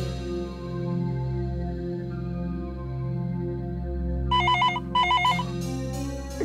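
A telephone rings indoors, its electronic ringtone sounding in two short bursts over soft background music.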